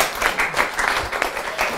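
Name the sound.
audience applause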